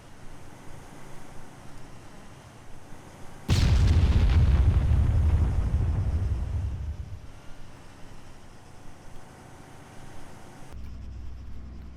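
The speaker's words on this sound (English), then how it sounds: "there's another medium explosion with a tank" An IED blast destroying a tank in the military game Arma 3: a sudden loud boom with a deep low rumble that rolls on and fades over a few seconds, then quiet background.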